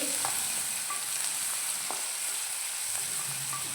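Onion, green chilli, ginger and garlic frying in a pan for a squid masala curry, a soft continuous sizzle with a few light stirring clinks, no voices.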